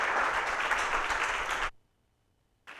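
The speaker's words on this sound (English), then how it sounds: "Let's go ahead and have a round of applause for Utah Foster Care." Applause from an audience at a business pitch event, loud, dense clapping that runs steadily and then stops abruptly, with a brief burst resuming at the end.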